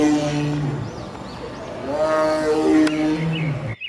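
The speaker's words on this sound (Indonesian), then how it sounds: "Wah, di sini ada harimau." A tiger gives a drawn-out, throaty roar that swells and falls over about four seconds, loud and close, heard on its own without speech.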